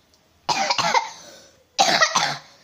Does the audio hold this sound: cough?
yes